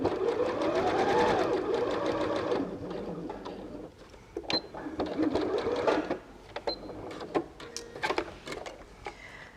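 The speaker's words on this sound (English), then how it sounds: "put your needle in, turn your flywheel one stitch straight" Sewing machine stitching a fabric cat purse, close up, in short whirring runs and single-stitch clicks as the flywheel turns, with a person talking over it throughout.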